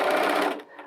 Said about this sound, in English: I push and hold, and the machine starts sewing.